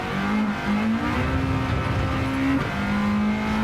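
A bored-out Honda B18 VTEC race car engine in Gran Turismo 7 revs high, its whine climbing steadily through a gear before a brief shift dip, over a rumbling road and tire noise with no talk.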